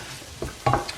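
Diced onion frying in a little oil in a pan for a Ghanaian corned beef pie, a soft sizzle with a few short stirring scrapes and clinks.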